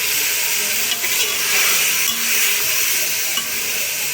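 Black pepper chicken pieces fry with onions in a pan, giving a steady, close, bright sizzle and hiss that holds evenly for a few seconds with faint shifts as the food moves.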